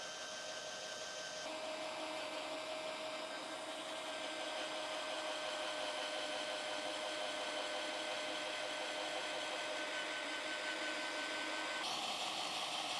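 A steady cordless electric drill whirs continuously at a constant pitch, close and loud, boring a hole through a sharpening stone, with a slight shift in tone near the end.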